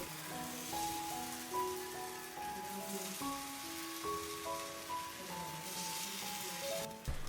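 Rava paddu batter sizzles in an oiled paddu pan, giving a steady soft crackle beneath a melodic background tune, with no one talking.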